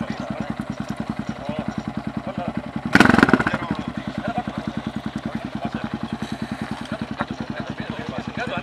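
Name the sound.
motorcycle engine during a wheelie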